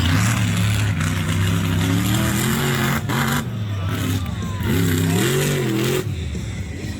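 At a Nowra, New South Wales monster truck show, a monster truck engine roars loudly and continuously, its pitch rising and falling through repeated revs, with a crowd and announcer audible underneath.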